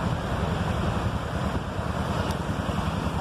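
A big river flowing beneath a bridge, a steady broadband rush of water mixed with wind noise, continuous and fairly loud with no voices.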